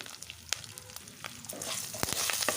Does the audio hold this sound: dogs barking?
no